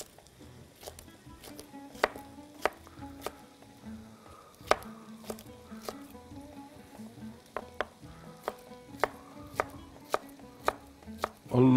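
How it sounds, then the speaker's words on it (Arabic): Peppers chopped with a knife on a board, a run of crisp, irregular thuds close by over a low kitchen hum and faint sizzle, no talk. "كده هنا نقطع بقى الفلفل ده"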